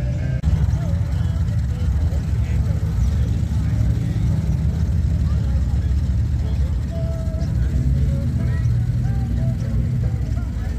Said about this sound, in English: some beautiful vehicles rolling in still